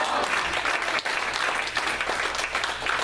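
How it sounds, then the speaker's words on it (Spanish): A church congregation applauds during a Spanish-language sermon, a continuous dense wash of many hands clapping at moderate loudness, steady from start to finish. "Vamos a dar un aplauso al Señor."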